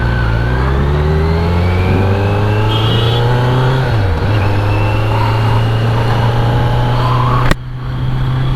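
A sport motorcycle fitted with a loud aftermarket exhaust revs hard nearby in a sustained, booming engine note that briefly drops and recovers midway, then cuts off abruptly with a sharp click near the end.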